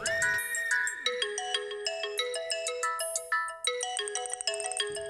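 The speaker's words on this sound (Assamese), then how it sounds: "ফোনটো বাজিছে হ'বলা।" A mobile phone ringtone plays a bright, melodic electronic tune of repeating tones, steady and fairly clear indoors, with no voices over it.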